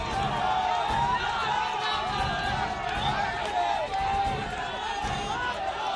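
A lively political-rally crowd in Kanpur chants slogans for their party leaders, a dense continuous roar of many voices with rising and falling shouted calls filling the whole stretch.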